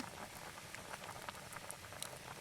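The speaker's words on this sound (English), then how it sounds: "With a bubbling stew." Stew bubbles at a violent boil in a pot over a campfire in a January bushcraft camp, a dense, steady patter of pops and splutters close by, with no talk.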